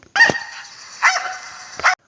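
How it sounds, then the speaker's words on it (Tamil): A cartoon dog in a Tamil story gives one drawn-out, whining bark lasting about two seconds, loud and close, rising in three sharp accents before stopping. "ஒரு நாய் வந்து குழச்சிக்கிட்டு இருந்துச்சு"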